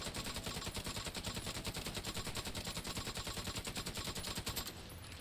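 Sustained rapid automatic gunfire from The Division 2 runs loud and steady in a dense rhythmic burst for several seconds before cutting off near the end.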